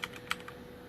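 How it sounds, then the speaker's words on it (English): Keys and spacebar of a Corsair K95 Platinum or Logitech G815 mechanical keyboard tapped a few times, with short crisp clicks close up over a faint background. "so the spacebar does have a slightly different sound when you're typing on it."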